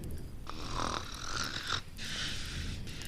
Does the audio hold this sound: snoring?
yes